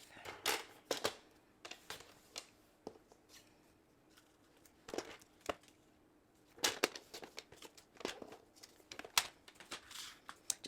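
A paper trimmer cutting cardstock for a card project, heard as scattered sharp slicing strokes and papery handling noises in uneven clusters, close and fairly quiet, with no speech.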